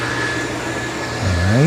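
Dreame L10S Ultra Gen 2 robot vacuum running in vacuum-only mode over a messy floor, a steady close whirring drone with a motor tone that rises and swells toward the end.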